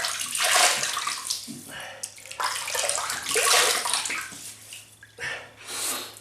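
Water splashes in bursts as a face is re-wetted for a wet shave, several broad sloshing pulses over a steady low bathroom hum, close and fairly loud.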